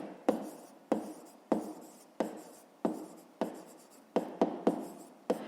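Repeated pen strokes on paper while a math exercise is worked out, about ten short scratchy bursts each fading quickly, close and clear with no talking.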